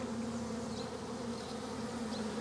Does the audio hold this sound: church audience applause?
no